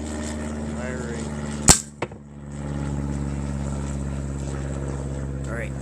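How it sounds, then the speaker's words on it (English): A Crosman Diamondback Nitro Piston Elite air rifle fires a single pellet outdoors: one sharp, loud crack, a brief second snap just after, then a low steady background hum, with a voice present. "here to show the speed and energy that this air rifle is delivering. So I'm gonna step back and fire."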